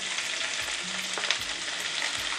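Onions frying steadily in a hot pan for a red sauce penne arrabbiata, a constant close sizzle with a few soft scrapes of a spoon and no voices.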